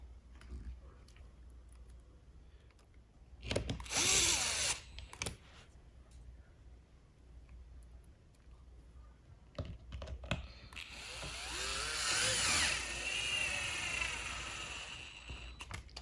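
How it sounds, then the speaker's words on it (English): A gyroscopic screwdriver drives Phillips screws into a Onewheel XR board, giving two separate bursts of whirring and clicking, the first short and the second longer and steadier, close by with quiet pauses between. "I'm using a gyroscopic screwdriver to be able to help me out"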